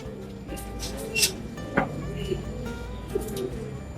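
Tippler pigeons coo softly at a breeder's loft, low repeated murmurs under a steady background hum, with a few brief sharper bird calls and faint voices nearby.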